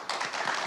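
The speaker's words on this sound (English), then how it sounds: "you're only clapping now out of sympathy because you clap for Behnam" A short burst of audience clapping at a conference panel on Iran, with a few quick, fairly soft hand claps and no speech.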